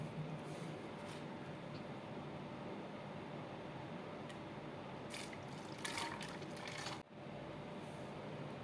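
Faint liquid pouring and trickling into a bottle, steady and close, with a few brief clinks and rustles near the end.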